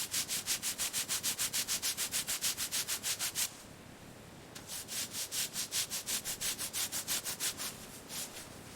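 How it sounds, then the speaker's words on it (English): Scrubbing strokes clean rust off the starter motor of a 1967 Mini Cooper S: quick, evenly spaced rasping passes, then a short pause, then a second run of strokes at a slightly softer level. "Cleaning off the rust now."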